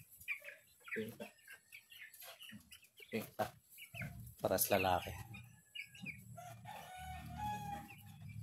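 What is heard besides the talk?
rooster and chickens clucking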